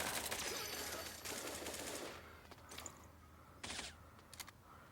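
Submachine gun fire in the shooter game Bullet Angel: rapid bursts of light automatic shots, a long sustained burst followed by several shorter volleys with pauses and small clicks between.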